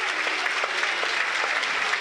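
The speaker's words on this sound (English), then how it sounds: "The players take a knee. It's applauded by the crowd" Football crowd at a Burnley versus Rochdale Carabao Cup tie applauding as players take a knee, a steady, dense stadium-wide clapping with a faint rhythmic pulse throughout.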